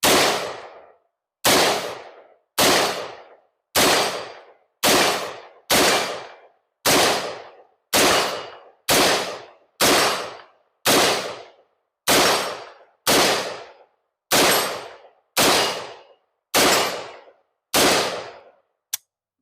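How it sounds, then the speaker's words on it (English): Rifle shots from a PSA AR-15 upper at steel plates, about fifteen loud sharp reports fired at a slow, steady pace, each decaying quickly. "I was shooting at 2 different plates, and I think I hit it with most of them."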